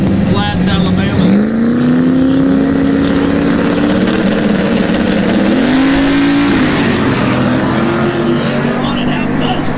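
A Mustang drag car launches hard off the line at Capital City Raceway, its engine roaring loud and close with rising revs and gear changes while people talk over it.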